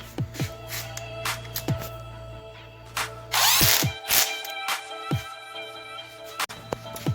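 A ratchet tightens spark plugs on a 2017 Suzuki SV650 motorcycle, giving loud close clicking bursts and metallic clunks in an uneven series, with one brief harsher whirring stretch and no talking.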